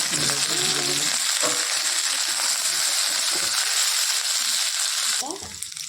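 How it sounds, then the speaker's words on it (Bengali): A pan of mixed vegetables frying sends up a dense, close sizzle that holds steady throughout, with brief stirring and a voice speaking at the start and again near the end. "সমস্ত সবজিগুলো ভাজা হচ্ছে"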